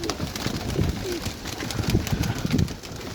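Pigeons coo nearby in short, soft, throaty calls repeated throughout, with some faint background noise beneath.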